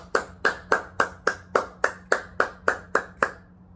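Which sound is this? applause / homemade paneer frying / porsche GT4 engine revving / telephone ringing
applause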